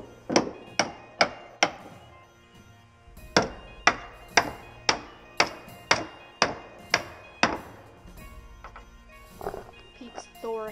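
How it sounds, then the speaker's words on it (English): Sharp, evenly spaced hammer blows ring out one after another, about a dozen strikes, then trail off into softer clatter. "Pete's Thor hammer"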